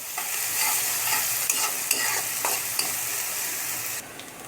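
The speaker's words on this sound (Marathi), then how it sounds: "2 मोठ्या आकाराचे कांदे एकदम बारीक असे चॉप केलेले, एकदम फाईन चॉप केलेले बरं का. थोडेसे सोनेरी होईपर्यंत फ्राय करायचे आहेत आपल्याला" Finely chopped onions frying in a pan for a chicken dish, a steady close sizzle broken by several sharp scrapes and clinks of stirring, with no talking.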